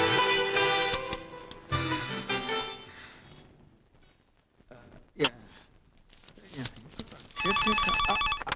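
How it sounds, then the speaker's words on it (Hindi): A telephone rings in a Bollywood action film scene, with a sustained bright ringing burst after several seconds of music and quieter sounds. "राणा साहब आपका फोन है।"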